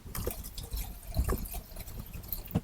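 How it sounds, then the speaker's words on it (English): RV antifreeze poured into a shower drain in an RV bathroom, heard as an uneven liquid splashing and dribbling with small drips, close by and moderately loud for a few seconds. "I'll pour some right down the drain"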